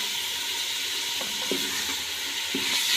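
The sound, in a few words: frying chicken for desi murgh yakhni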